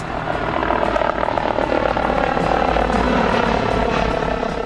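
An air ambulance helicopter thunders overhead as it arrives, loud and close, its rotor chop and engine whine continuous throughout.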